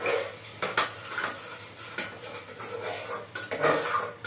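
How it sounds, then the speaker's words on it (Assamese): A metal spoon stirs chicken pulao rice with ginger garlic paste and chillies in a pot, giving repeated scraping clinks against the pot over a faint sizzle, close and irregular. "এতিয়া মই আকৌ লৰাই দিম"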